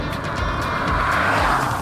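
Fast car racing on a wet road in the rain along the NC500 route, engine roaring loudly as it passes close by, with a rising and falling pitch and a hiss of spray over two seconds.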